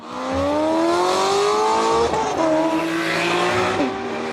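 A Ferrari V8 engine revs loudly and rises in pitch, with a smooth, throaty roar that briefly dips between gear changes before climbing again.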